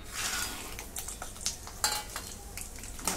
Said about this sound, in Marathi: शेंगदाणे मी तळून घेते